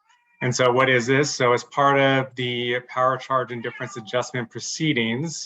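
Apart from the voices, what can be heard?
cat meowing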